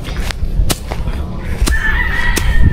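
Chickens in a new coop area call out with sharp clucks and squawks, several short bursts over steady background noise, fairly close.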